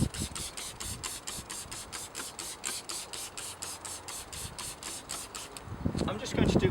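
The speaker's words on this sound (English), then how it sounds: "So again, simple 10 to 1 solution, sprayed around the hatch." Steady hiss of a dilute cleaning solution sprayed in rapid repeated pumps around a caravan roof hatch, close and continuous, with a louder rustle near the end.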